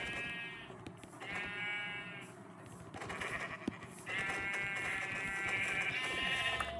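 A goat in Minecraft Bedrock bleats over and over in long wavering calls, loud and close, with faint game noise underneath.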